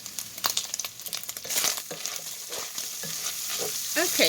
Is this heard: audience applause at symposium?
no